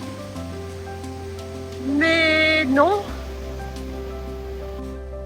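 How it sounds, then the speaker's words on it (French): The Bourne river rushes with a heavy current after much rain, a constant broadband roar of water beneath a short spoken French phrase. "Il a beaucoup plu ces derniers temps, elle a un gros débit."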